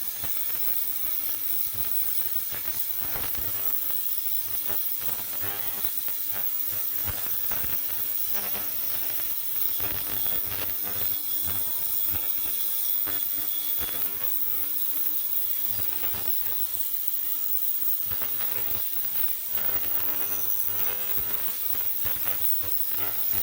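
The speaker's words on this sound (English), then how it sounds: "So now we're going to flick the ultrasonic bath on." Ultrasonic bath switched on while cleaning fuel injectors, giving a steady, loud mechanical buzzing and rattling hum that runs continuously throughout with no talking.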